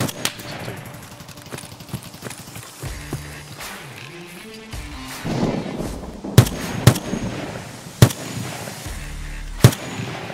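Gunfire in the shooter game Escape From Tarkov: a few sharp, loud shots break out over a busy background rumble, with crack-like peaks spaced unevenly across the stretch.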